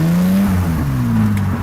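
The V engine of a Lamborghini replica revs and drones loudly close by as the car drives on an ice track, with steady rising and falling pitch.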